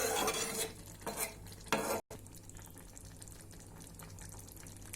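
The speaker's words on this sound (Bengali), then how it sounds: "ভালো করে নাড়িয়ে নেব যাতে পুরো তরকারিতে মিশে যায়" Small fish curry being stirred with sprinkled cumin powder, a spoon scraping and swishing through the thick mixture in a few firm strokes, then a steady low simmering hiss, close and moderately loud with no talk.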